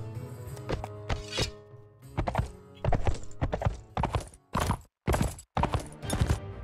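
Hooves clip-clop at a gallop under a rider in the medieval combat game Mount&Blade Warband, rapid uneven bursts with brief gaps, mid-loud and close, mixed with other game noise.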